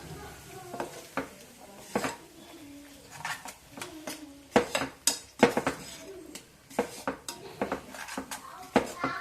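A spoon stirs curd into gravy in a cooking pan, making intermittent metallic clinks and scrapes in irregular bursts against a quiet kitchen background.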